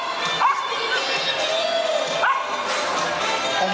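Several dogs yip and bark now and then over a noisy indoor dog show crowd, with faint voices in the background.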